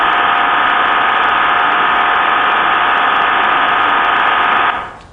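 Received digital radio modem tone smeared by noise and frequency offsets: a steady, loud, dense band of hissing data tone running continuously, then cutting off abruptly near the end.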